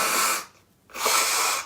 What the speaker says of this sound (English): sneezed into everyone's face live on camera